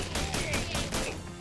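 Rapid gunfire from the video game Shadows Over Loathing during a fight with goblins, a dense run of loud repeated shots with no pause between them.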